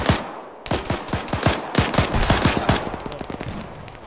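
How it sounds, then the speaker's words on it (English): Gunfire in the combat game ARMA 3, including sniper rifle shots: a rapid series of sharp, loud reports in irregular bursts, at first close together and then thinning out toward the end, with no talk over it. "Yo, that was a sniper rifle."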